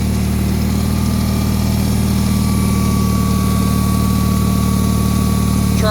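A Bolens HT-23 garden tractor engine runs steadily nearby, a constant loud mechanical drone with a low hum that holds without change throughout.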